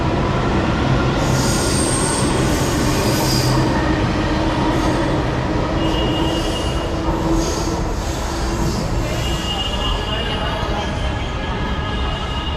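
An Indian metro train rolls along the rails, its wheels squealing in sharp, shifting high tones over a loud, constant rumble of the carriages, heard from inside the car.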